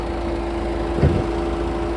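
A Toyota Proace's 2.0-litre French engine idles close by with a steady, even hum and a constant tone, and one brief knock-like burst comes midway.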